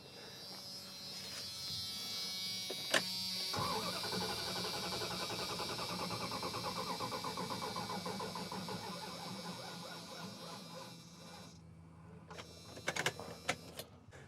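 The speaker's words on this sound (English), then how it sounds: "We're gonna do our override, hook up, and crank, again, just to see what kind of cranking speed we get." A 5.2 liter V8 truck engine cranks on a Milwaukee M18 jump starter, a steady rapid buzzing whir that runs for about eight seconds, then stops, followed by a few faint clicks.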